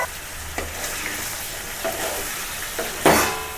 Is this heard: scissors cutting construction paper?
no